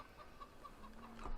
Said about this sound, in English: we got some of them really weird long-eared chickens trapped in their pen.